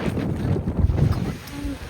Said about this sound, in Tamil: காத்து அப்படி என்னையவே இழுக்குதுங்க